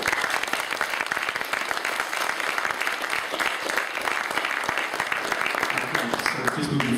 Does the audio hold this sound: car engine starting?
no